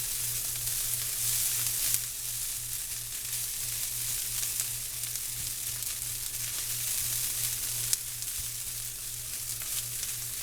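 Egg being stirred into fried rice in a hot pan, a continuous bright sizzle with a low steady hum beneath and occasional faint clicks, near and even throughout, with no voices.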